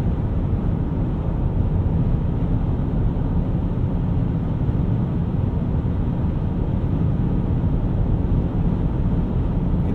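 Steady interior drone from a 2013 Acura TSX wagon's Honda engine held under 3,000 RPM on light throttle while driving, a continuous low rumble mixed with road and wind noise for the whole stretch, with no talking.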